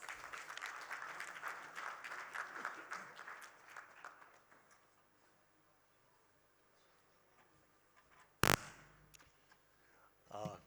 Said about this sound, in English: Please welcome with an applause.